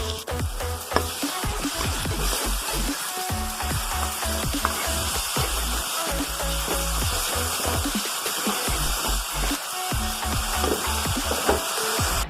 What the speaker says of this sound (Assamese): পিঁয়াজখিনি ভালকৈ এতিয়া ৰঙচুৱা হ'বৰ বাবে অলপমান টাইম ভাজি লওঁ